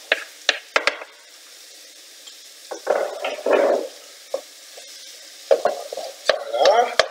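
Onions and garlic fry in a pan as apple mushroom pork is cooked: a low steady sizzle comes and goes in bursts, with louder stirring scrapes and a few sharp utensil knocks against the pan.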